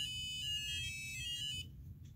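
A touch-operated polyphonic piano with a 3D-printed glow-in-the-dark case sounds a sustained, bright electronic tone, close and clean, cutting off abruptly after about a second and a half with faint blips after.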